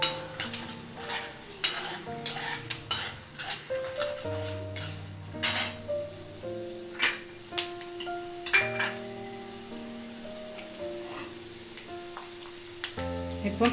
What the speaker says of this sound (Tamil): நிலக்கடலை கொஞ்சம் நல்லா ஃப்ரை ஆகணும்.